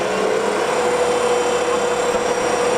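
Steady loud mechanical drone of a FREMA Falcon 130 machine's engine running under acceleration, a continuous whirring hum with a sustained tone and no pauses, no voices.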